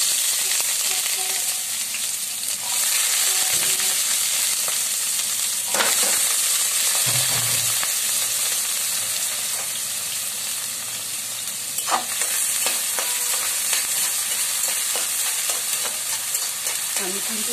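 Onion, garlic and shrimp fry in a pan for a spinach dish, giving a loud, steady sizzle and hiss with occasional scrapes and clinks of stirring, no voices heard.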